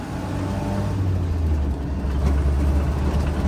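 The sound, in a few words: Land Rover Series 2a engine accelerating on country lane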